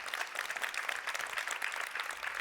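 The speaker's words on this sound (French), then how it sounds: "on peut l'applaudir à nouveau" Audience applause at a talk, a quiet, dense and steady clapping from a crowd, heard alone and fairly distant.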